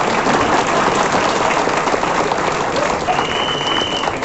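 An audience at a Vestige business leaders' event applauds in a dense, steady wash of clapping that holds for several seconds, with faint voices underneath.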